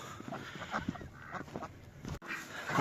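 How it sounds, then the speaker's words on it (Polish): A group of ducks calls noisily nearby, honking and quacking in overlapping bursts against a rough outdoor background. "te są dziwne te kaczki"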